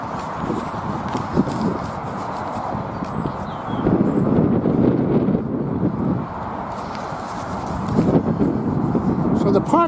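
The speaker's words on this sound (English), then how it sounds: "It's a wee bit on the windy side." Gusty wind blows through Victoria Park, a steady low rumble of buffeting against the microphone that swells louder in surges around the middle and end, with no other clear sounds standing out.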